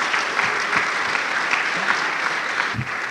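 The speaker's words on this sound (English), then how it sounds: "a round of applause for me" A crowd at an eLearning international conference claps steadily, a dense close wash of applause filling the whole stretch with no voices.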